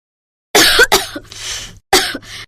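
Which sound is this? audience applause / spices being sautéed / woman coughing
woman coughing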